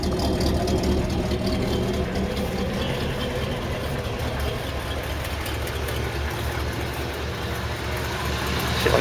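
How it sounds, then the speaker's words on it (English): A 1979 Ford F150 4x4 classic truck with a lift kit idles steadily nearby, its engine giving an even, low rumbling throb with no revving and no voices over it. "It's a really strong engine."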